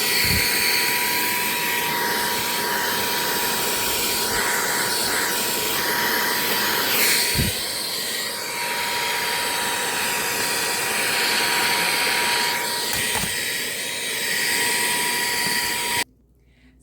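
A cheap Coovy cordless vacuum runs steadily while cleaning out a car interior, a continuous loud whirring hiss with a few brief knocks and bumps, then cuts off abruptly near the end.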